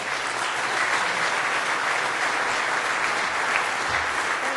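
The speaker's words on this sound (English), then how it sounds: "A big round of applause, please." Sustained applause from a crowd at a hall of fame dinner, an even, continuous wash of many hands clapping at steady volume from start to end.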